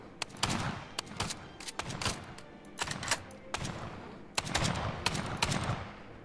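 Bursts of gunfire in the YLand sandbox game, fired at waves of enemies: clusters of sharp repeated shots come in several volleys with short pauses between them, moderately loud and heard alone without talk.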